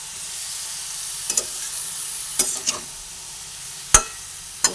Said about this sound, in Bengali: এইভাবে কষিয়ে নিচ্ছি।